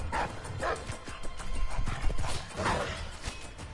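Dogs bark in the video game Dishonored 2, a few sharp, moderately loud yips and barks in quick bursts over a busy game soundscape with clattering footsteps.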